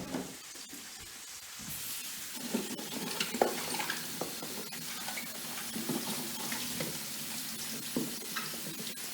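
Tap water runs steadily over fennel being washed for a salad at a kitchen sink, a continuous close splashing rush with small clatters and no talk.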